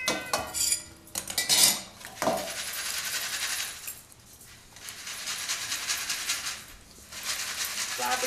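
Roasted salted peanuts rattle and clatter in a metal pan, shaken hard in several loud bursts with brief pauses, a dense gritty rustle of nuts and salt in a village kitchen.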